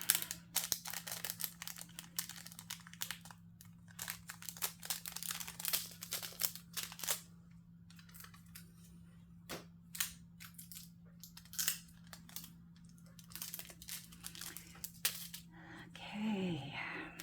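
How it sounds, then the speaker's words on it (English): Tape being pulled and pressed onto pieces of a five-panel canvas kit, giving close crackling, crinkling bursts and sharp rips over a low steady hum. "tape them up"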